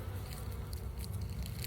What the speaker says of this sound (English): You'll see some bees still flying around here.